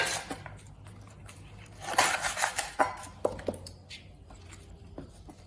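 A knife slices the roots off freshly dug palmyra tubers from a home garden, making a series of irregular cuts and scrapes up close, with the sharpest strokes bunched in the middle and no talk.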